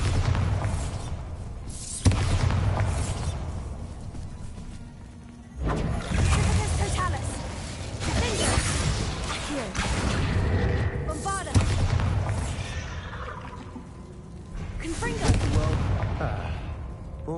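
Bombarda spell explosions in the video game Hogwarts Legacy go off as a series of deep booms and thuds, several sharp blasts spaced a few seconds apart over rumbling background, with some faint voice sounds mixed in.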